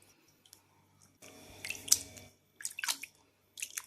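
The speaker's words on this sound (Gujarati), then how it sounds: "આ રીતે પોટલી જેવું વાળી એને પાણી બધું નિતારી લેવાનું છે." Whey draining from a cloth bundle of freshly made homemade paneer, heard as faint, wet squishes and drips in a few short bursts separated by near silence.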